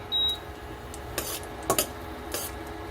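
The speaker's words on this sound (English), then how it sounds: "So, let's go ahead and stir this up." A utensil scrapes and clinks in a pan while chicken and garlic brown, with several short rasping strokes and a brief beep at the start, close and fairly quiet.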